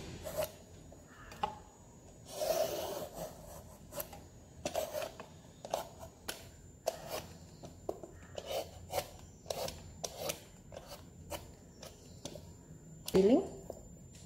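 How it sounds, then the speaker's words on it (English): Peeler scraping the skin off a bottle gourd in a series of short rasping strokes, irregular and close, with a brief high squeak near the end. "So you can use the peeler to peel the skin off."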